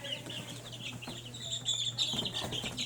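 Black Cochin chickens and young chicks in a large pen give soft, repeated clucks and cheeps, with faint wing flaps and shuffling close by under a steady low background hum.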